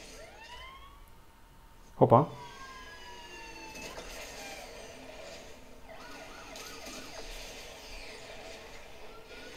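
Police car siren in the Asphalt 9 Legends racing game, played on an iPad, wails faintly under engine noise, broken by a sharp crash and a brief excited shout.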